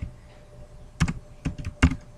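Computer keystrokes typing out a short word for a CorelDraw text design, a few sharp clacks spaced irregularly, close and moderately loud against a quiet background with no voices.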